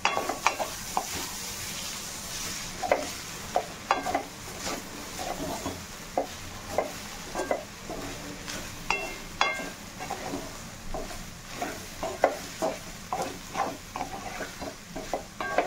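Vegetable fried rice being stirred in a pan, spiced with garam masala and coriander powder: repeated scraping and clinking strokes of a spoon against the pan in an uneven rhythm over a soft, continuous sizzle, close by and without talk.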